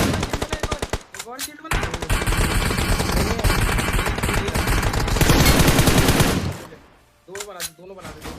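Covering fire in a mobile squad shooting game: long, loud, close bursts of automatic gunfire run almost without a break, with short gaps, while players talk over the shooting.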